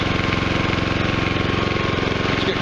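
A Westinghouse generator runs steadily at close range, its engine chugging in a fast, even pulsing rhythm with a hard mechanical knock, loud and continuous with no talk.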